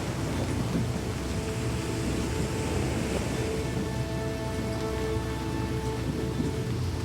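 Heavy rain falls during a storm off the south coast on a lobster boat, a steady dense hiss with a low rumble beneath, continuous and fairly loud throughout.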